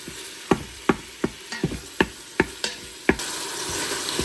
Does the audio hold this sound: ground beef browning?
yes